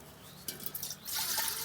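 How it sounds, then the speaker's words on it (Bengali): Water poured into a cooking pot on a stove for boiling sago, about a litre, a close splashing rush that starts after a brief clink and grows fuller as the pot fills. "এখন আমি দিয়ে দেবো জল।"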